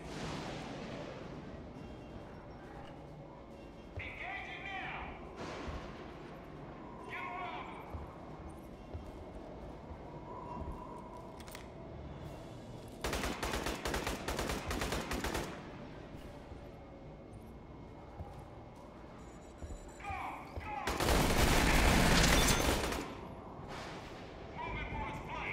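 A deployed sentry turret fires at aliens in Aliens: Colonial Marines multiplayer: two loud sustained bursts of rapid fire stand out over game ambience and scattered effects, with players talking at other points.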